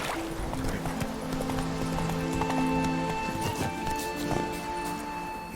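Geralt's horse Roach gallops in The Witcher 3, with rapid, steady hoofbeats under wind and background game music; a short vocal call is heard.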